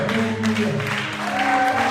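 A French-speaking church congregation applauds and cheers during a sermon, producing a dense wash of clapping and crowd noise over sustained musical tones.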